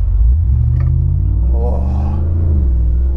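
A Corvette V8 swapped into an old-school Land Rover Defender gives a deep, close engine rumble as it briefly accelerates on a street, its low-pitched tone rising slightly before settling.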